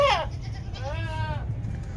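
A goat being shipped as cargo in Pakistan bleats twice nearby: a short cry at the start, then a longer wavering bleat after a brief pause.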